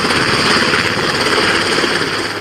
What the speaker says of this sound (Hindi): शांत समंदर में दहाड़ते हेलीकॉप्टर की ये तस्वीरें